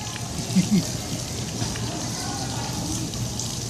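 Water sprays steadily from frog and turtle fountains at an outdoor plaza, a continuous hissing patter like rain that runs through the clip beneath children's voices and chatter.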